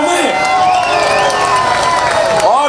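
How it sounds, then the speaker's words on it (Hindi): A loud crowd at a Karachi Independence Day celebration cheers and applauds, with voices shouting over continuous clapping throughout. "जोरदार तालियों में"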